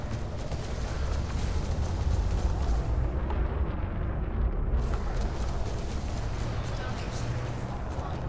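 Spaceship guns firing in the space game Elite: Dangerous, a dense, continuous roar of rumbling blasts that stays loud and steady throughout, with only a brief dip in the high hiss partway through.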